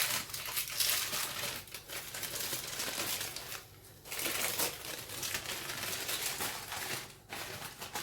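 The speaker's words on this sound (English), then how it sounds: "very carefully peel the paper back." Baking paper peeled slowly off a rolled summer dessert roulade, giving continuous soft crinkling and papery rustle close by, with brief pauses, no talking.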